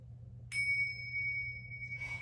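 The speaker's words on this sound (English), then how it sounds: "I will ring the tingshas, the bells," A single bright tone from tingsha bells rings out and sustains steadily for over a second with a pure, shimmering ring before fading under a soft low hum.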